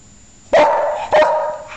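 A pet dog named Jed gives two sharp, loud barks close by, about half a second apart, the second trailing off into a short whine.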